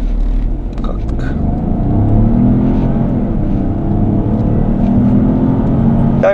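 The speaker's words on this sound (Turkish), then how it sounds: "Şurada durup sıfırdan kalkış ve yol müsait olursa top speed denemek istiyorum." Peugeot 5008 1.2 Hybrid pulling away from a standstill in sport mode, a steady low engine drone building under light road rumble, heard from inside the cabin.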